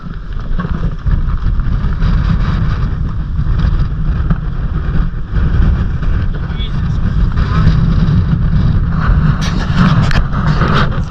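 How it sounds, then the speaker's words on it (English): Strong wind of around 40 knots roars across a sailboat at sea, a steady loud rushing buffet on the microphone that never lets up. "It's blowing like 40 knots."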